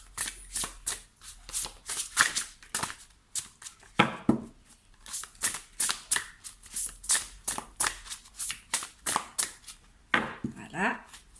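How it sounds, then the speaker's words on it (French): Oracle cards being shuffled by hand: a long run of crisp, rhythmic riffling flicks and slaps, close and clear, with a few louder card snaps and a short pause before more shuffling. "je vais à présent vous tirer une carte pour vous accompagner"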